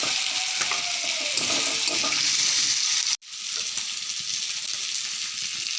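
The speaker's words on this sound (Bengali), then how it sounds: "আলু দিয়ে ভালো করে 10 মিনিট মজাই নিব।" Potatoes sizzle and fry with spice masala in a pan, a steady close hiss with scraping stir sounds, briefly cut by a short dropout near the middle before the frying continues.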